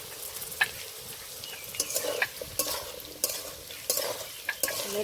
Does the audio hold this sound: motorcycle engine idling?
no